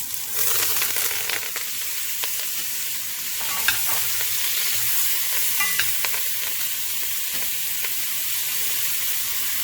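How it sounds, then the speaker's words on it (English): Carrots and celery sautéing in a pot as the base for pot roast, a steady close sizzle with occasional stirring scrapes and clinks, no voices. "I'm going to throw in my carrots and my celery just to give it a little bit of a saute"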